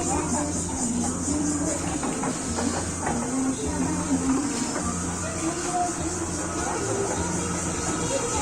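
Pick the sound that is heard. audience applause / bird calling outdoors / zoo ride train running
zoo ride train running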